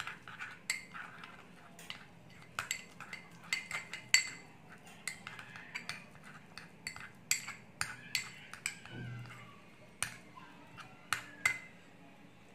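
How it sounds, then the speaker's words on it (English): A spoon clinks and scrapes against a bowl while stirring an oatmeal, yogurt and honey face mask, a quick irregular series of sharp close taps with no talk. "Now mix all the ingredients well."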